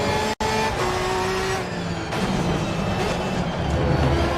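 Race cars in a video game roar through a corner, engines droning loud and close with a brief tyre squeal, and a sharp cut partway through before the engine note carries on.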